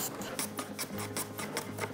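A hand plane slices the edge of a wooden piece on a shooting board, fine-tuning a 45-degree angle, giving a string of quick raspy, shaving strokes in steady rhythm, close and fairly quiet with no talk.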